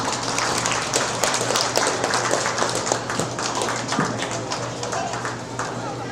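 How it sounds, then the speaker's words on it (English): Audience applause at a small animal show during the awards, a dense, steady wash of many hands clapping with a constant hum underneath, continuing throughout without a break. "Let's give them all a big round of applause."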